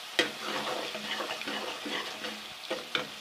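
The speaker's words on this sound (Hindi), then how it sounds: "अच्छा सा हम इसको फ्राई करेंगे जी" Masala fries in ghee for a besan gravy, giving a soft, close bubbling sizzle with gentle stirring and a couple of light utensil taps, quiet and without talk.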